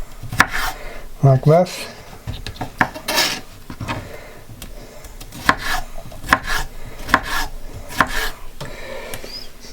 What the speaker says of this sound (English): So I've peeled the cucumber and I've sliced it, and now I'm just going to matchstick it